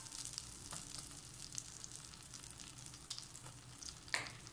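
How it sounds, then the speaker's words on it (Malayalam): Onions and Kashmiri chili powder sauté in butter for paneer butter masala. A faint, steady sizzle hisses in the pan, with a few light stirring scrapes and no talking. "എന്നിട്ട് നന്നായിട്ട് വഴറ്റുക."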